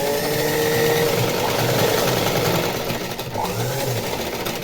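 Sewing machine stitching the sleeve onto a blouse, a steady continuous motor whir with fast needle chatter running throughout, close and fairly loud, no talking.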